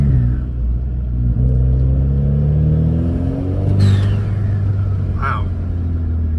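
An Alfa Romeo Giulia fitted with a BMC air filter revs with a deep, throaty engine rumble that rises and falls, close and loud, with brief intake whooshes.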